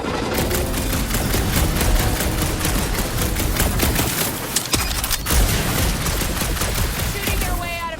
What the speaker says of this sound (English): Shooting your way out of every problem again, Peter?